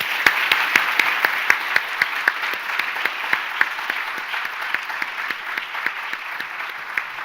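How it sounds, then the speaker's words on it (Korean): Audience applause fills a Korean diplomacy conference hall as the session closes, honoring the panelists at the National Diplomatic Academy's 50th anniversary IFANS global conference; steady, dense clapping with sharp individual claps standing out, sustained throughout. "특히 패널리스트 여러분들께도 감사의 박수를 좀 부탁드리고자 합니다"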